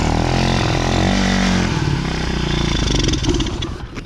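A motorcycle with the choke on churns and catches, then runs with a loud, rough, uneven engine rumble close by. Clattering mechanical noise sits under it and no one speaks.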